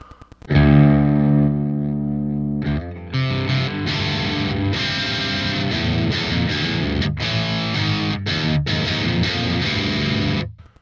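Heavily distorted electric guitar rings out loud through a Mesa Mark VII amp with gain and treble maxed, sustained chords and notes with a bright, saturated, buzzing tone.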